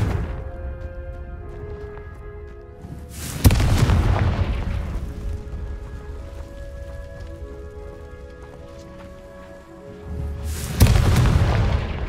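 Two booming spell blasts from the Confringo fire curse in Hogwarts Legacy, one near the start and one near the end, each a loud, broad burst with a rumbling tail, over a quiet ambient game score and no speech.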